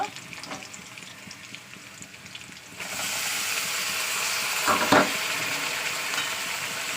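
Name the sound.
meat frying and sizzling in oil with onions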